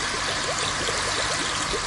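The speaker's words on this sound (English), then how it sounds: "If we place frozen carbon dioxide into water, the carbon dioxide boils off." Dry ice, frozen carbon dioxide, boils off in water with a steady bubbling, trickling rush and small repeated gurgles, close and continuous, without talk.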